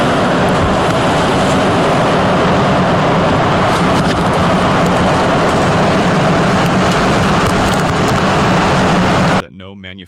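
An EF3 tornado gives a loud, continuous broadband roar with rumbling low harmonics beneath it. The roar runs steady for about nine seconds, then cuts off abruptly.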